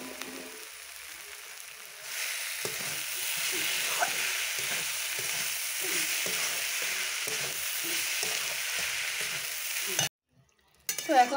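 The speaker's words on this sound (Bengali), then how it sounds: "এখন যে ভেজে রাখা আলুগুলো আমি ভেজে দেবো" Potatoes frying in spiced oil in a pan, a steady soft sizzle with intermittent scraping and stirring sounds, followed by a sudden near-silence and a brief clatter at the end.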